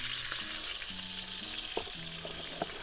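Burgers sizzle steadily in a pan outdoors, a continuous bright frying hiss with a faint tonal hum underneath and no speech.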